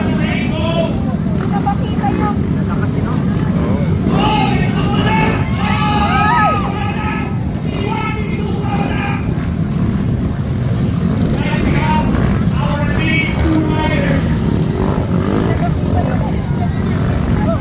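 Loud motorcycle engines rumble continuously at an outdoor riding event in Alviera, Porac, Pampanga, with steady low roaring under a babble of crowd voices and occasional shouts nearby.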